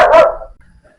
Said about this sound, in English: I'm not sure what my dog's going crazy about.